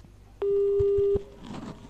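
Telephone busy signal on a call: a steady electronic tone sounds alone for under a second, then cuts off and returns briefly at the end, with faint background noise between.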